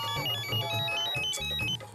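An unanswered mobile phone left in a purse rings with a looping melodic tone, steady and close, for the whole stretch.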